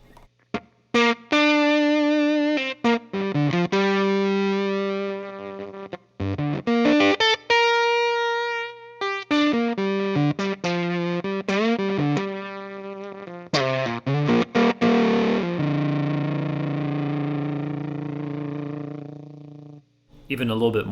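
An electric guitar through a fuzz pedal, with the volume knob turned down so the fuzz gates into a synth-like tone, plays a choppy run of short notes and chords, sputtering on and off, then one long note that fades into near silence.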